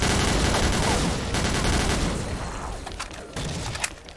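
Rapid automatic gunfire in the online shooter XSHOT during a team deathmatch, a dense, loud burst of overlapping shots that thins out, ending in a few separate cracks.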